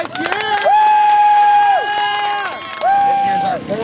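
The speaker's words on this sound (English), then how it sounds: "Let's all give him a round of applause." A crowd at a 2008 redneck lawn mower derby trophy ceremony breaks into long, loud whooping cheers with some clapping, two big swells of voices close by.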